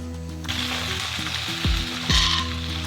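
Ghee sizzles loudly in a pan while tempering for raw mango pulihora, a steady crackling hiss with a few sharp bursts and spatters, close up and without talk.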